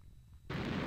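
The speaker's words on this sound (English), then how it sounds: "Big explosion, because, you know, that's what fireworks do. They explode." A firework bursts in the point-and-click adventure game Ben There, Dan That: after half a second of quiet, a sudden loud, rumbling explosive blast erupts and holds through the end.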